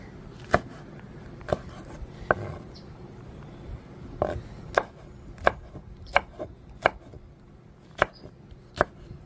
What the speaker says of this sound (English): And now we're gonna cut up some nice pepper to put in there.